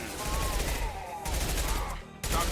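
Weapon fire in the Mass Effect 2 game, including a main gun shot, as bursts of heavy gunfire and booming blasts in quick succession during combat, loud and close.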